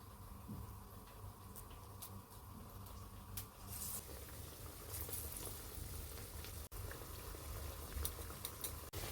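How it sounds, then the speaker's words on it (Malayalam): Chana dal vada with onion and cabbage fries in hot oil, giving a soft, steady bubbling with scattered faint crackles, quiet and close. "ഈ മാവിനെ കുറേശ്ശെയായിട്ട് നമുക്ക് കയ്യിലെടുത്തിട്ട് ചെറുതായിട്ടൊന്ന് പരത്തി എണ്ണയിലേക്ക് ഇട്ട് കൊടുക്കാം."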